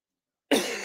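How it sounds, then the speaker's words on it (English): A single sharp cough bursts out after a moment of silence, close and loud, trailing off briefly. "Still a little cough."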